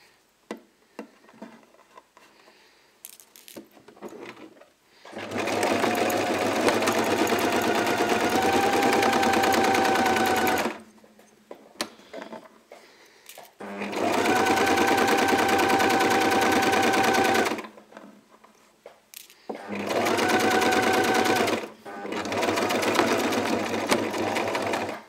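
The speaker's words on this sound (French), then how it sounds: "on prend un point zigzag sur votre machine à coudre" A sewing machine running a zigzag stitch through fabric for a bloomer, in three loud, close bursts of rapid whirring and clatter separated by short quiet gaps.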